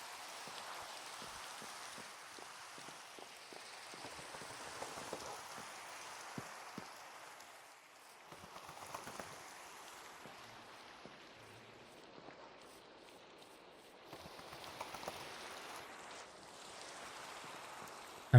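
Steady rain patters on a surface throughout, a soft, even hiss of drops at low level with scattered brief taps, no voices, and the downpour thins slightly midway before picking up again.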